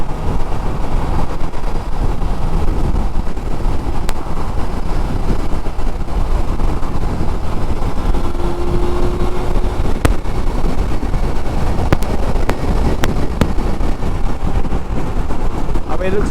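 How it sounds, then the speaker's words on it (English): Wind buffets the microphone while riding a Suzuki Bandit motorcycle through traffic, a constant loud low roar with engine rumble underneath, steady for the whole stretch. "God, it's windy."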